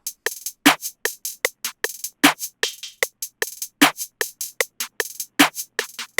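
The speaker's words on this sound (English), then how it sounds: "I added a second snare as like an accent." Dark trap beat with punchy kicks and crisp snares joined by a second accent snare, a steady looping pattern of sharp hits, loud and dry with no voices.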